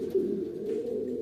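Homing pigeons coo in a loft, a low, steady, throaty murmur that runs throughout the moment, close and moderately loud with no talking.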